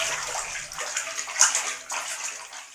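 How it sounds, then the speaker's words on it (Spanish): Water churns and sloshes in a flocculation tank at a water treatment plant, a continuous close splashing rush with small gurgling surges. "el agua pasa al tanque de floculadores donde se agita"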